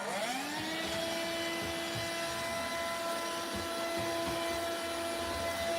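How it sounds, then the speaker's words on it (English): A vacuum cleaner spools up and then runs steadily with a loud, sustained whine while clearing out a kitchen utensil drawer, with faint clunks and rattles of the nozzle against objects underneath. "I'm gonna go ahead and vacuum this out of here."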